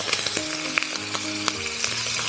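A fish head fries in a wok over high heat with mushroom slices, ginger and aromatics, giving a steady close sizzle punctuated by sharp spatula scrapes and clinks, with a faint tonal hum underneath.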